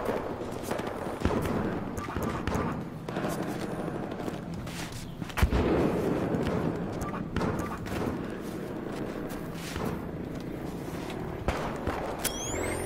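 Gunfire in the video game Battlefield Hardline: scattered sharp shots, with one louder crack standing out, over a steady battlefield din.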